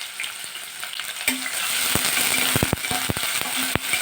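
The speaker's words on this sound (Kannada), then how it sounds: "ಈರುಳ್ಳಿ ಫ್ರೈ ಆಗಿದೆ" Sliced large onion sizzles in hot oil with mustard seeds, curry leaves and garlic, a steady hiss broken by several sharp spoon clacks against the pan.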